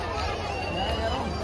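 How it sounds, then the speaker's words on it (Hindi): Crowd chatter at a zoo exit, a dense murmur of many voices blending into a steady babble, near and continuous. "बाकी भीड़ बहुत है भाई इधर"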